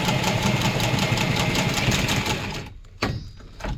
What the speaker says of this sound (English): Love that Milwaukee cutter.